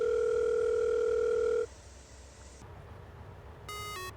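A telephone dial tone sounds steadily and loudly while a call is being placed from a cell phone, then cuts off, and short electronic beeps follow near the end.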